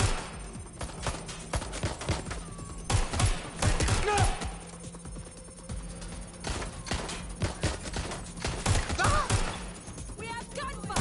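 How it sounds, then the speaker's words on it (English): Gunfire in Watch Dogs Legion crackles in sharp, clustered bursts, heaviest around the middle and again near the end, over a busy layer of game effects. "We have gunfire!"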